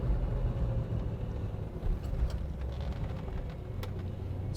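A 1968 Chevrolet Chevelle SS big block with a 4-speed rumbles steadily as it drives, a low, heavy engine drone heard from inside the car with no clear separate shift.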